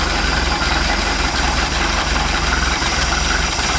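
A MerCruiser 3.0L Alpha One sterndrive boat engine with a carburetor idles steadily during winterizing. It gives a loud, continuous low rumble with an even throb and no speech.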